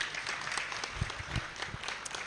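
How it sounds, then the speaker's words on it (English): Applause from the audience at a corporate product launch for bio food sustainability, a short spell of scattered clapping at moderate distance and fairly quiet, with a few sharper claps standing out. "another round of applause for our boss"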